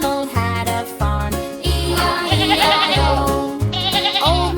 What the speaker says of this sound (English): And on this farm he had a sheep